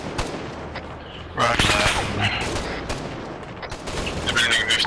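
Gunfire and artillery crackle through a battle in the video game Arma 3, with a sharp burst of shots swelling to a loud, sustained barrage over a dense rumbling backdrop while a voice briefly speaks over the radio.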